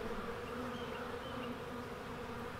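Honey bees massed outside a hive during an oxalic acid vapor mite treatment give a dense, continuous buzzing drone that holds steady throughout, close and moderately loud.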